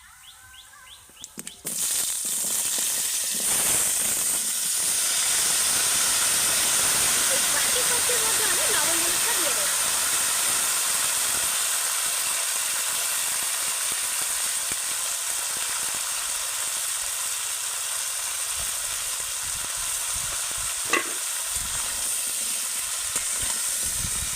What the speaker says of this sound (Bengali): বাকি সবজিগুলোকে আমি একইভাবে কিন্তু ভেজে নেব